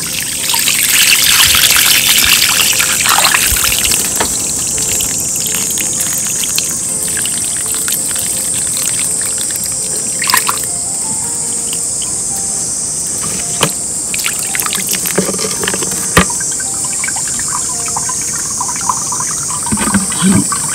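Water pours and trickles into the reservoir of a self-watering rose planter under house eaves, a close, steady splashing flow with intermittent drips and gurgles over about twenty seconds, no talking.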